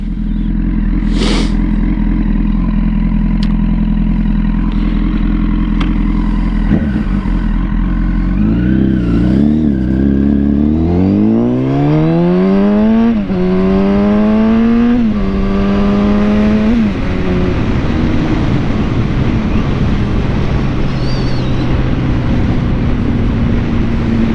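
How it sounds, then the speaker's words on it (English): A 2006 Honda CBR1000RR sport motorcycle with a Yoshimura exhaust, K&N filters and a Power Commander idles with a loud, steady burble. It then revs up in several rising sweeps and settles back, heard close and alone throughout. "It's got a Yoshi pipe on it, which sounds very delicious."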